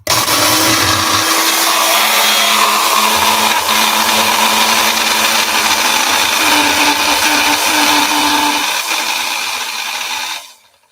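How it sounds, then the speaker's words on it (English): A small kitchen blender grinds a batch of homemade cayenne peppers, a loud steady whirring roar that runs for about ten seconds, its pitch shifting slightly as the load changes, then cuts off abruptly. "I'm going to do it in batches because I'm using a smaller blender."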